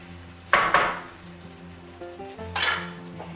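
Drained canned Aldi mushrooms tip into a pan of Salisbury steak made from frozen burgers, giving two sharp clattering spoon-and-pan scrapes against a steady low sizzle, close and alone.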